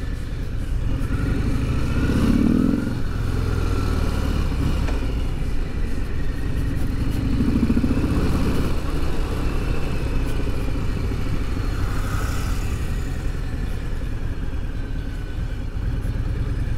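A Harley-Davidson Sport Glide motorcycle on the road during its first hundred kilometres of engine break-in, a continuous low engine rumble buried under heavy rushing wind noise, steady and close for the whole ride.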